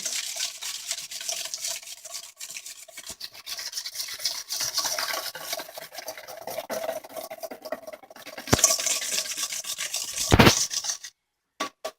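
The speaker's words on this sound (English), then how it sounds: "We're going to mix this until it's well combined" Creme brulee ingredients, sugar being whisked into egg, scraped and stirred steadily in a bowl at close range, a continuous rubbing swish with a few louder knocks near the end and no talking.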